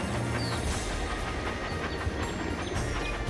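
A train in a mobile video game runs on its rails with a continuous rolling rumble and faint rhythmic clacks that hold steady from start to finish, with no voices.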